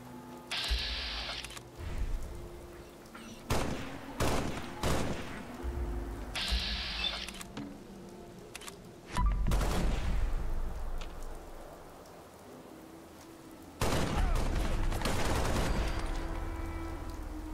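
A gun fires rapidly in a video game, with bursts of sharp cracking shots in quick clusters, some loud sustained barrages and brief pauses between volleys, heard up close with no talk.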